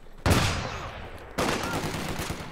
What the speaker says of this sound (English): the MG shot its burst right before it hit red cover